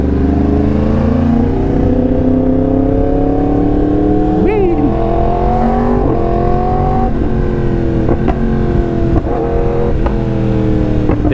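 Yamaha R1M motorcycle with a crossplane four-cylinder engine, running loud and close in slow traffic, its engine note rising steadily in pitch, with a few quick blips of the throttle toward the end.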